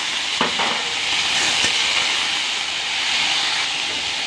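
Small chopped potatoes hit hot oil in a pan with garlic and ginger, giving a steady, bright sizzle with a couple of soft knocks near the start.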